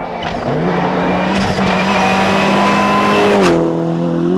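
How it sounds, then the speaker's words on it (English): A rally supercar at the 1996 Manx International Rally roars loudly over stage jumps, the engine note rising and falling with shifts and brief tyre noise, heard close and continuous. "No such problems for Schwartz, who can afford to ease the supercar over the jumps and enjoy the smoother bits"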